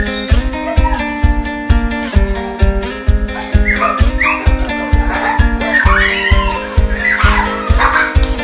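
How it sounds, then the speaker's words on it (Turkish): A female neighbourhood dog barks, yips and whimpers repeatedly, close and fairly loud, over a steady rhythmic musical beat. "Sitenin köpeği oldu diyebilirim."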